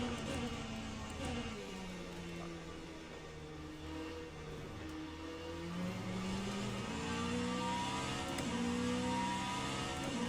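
Race car in the video game rFactor 2 accelerating along a straight, a steady engine whine climbing through the gears with rising and falling pitch, continuous and fairly close, no talking.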